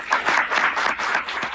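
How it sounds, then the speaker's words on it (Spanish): Audience applause at a manga masterclass event in Barcelona, a steady dense burst of clapping from a live crowd filling the whole moment with no voices over it. "Un aplauso para..."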